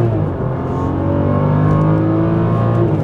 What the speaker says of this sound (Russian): очень хорошо набирает тачка.